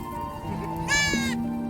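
One sharp, close bleat, roughly half a second long, rises out of a low outdoor hum from a mixed flock of goats, sheep and lambs on their way to pasture.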